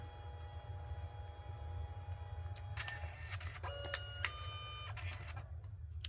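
An inkjet-style printer runs steadily, a low mechanical rumble with soft clicks and brief high whirs as the print head moves, heard alone at moderate level.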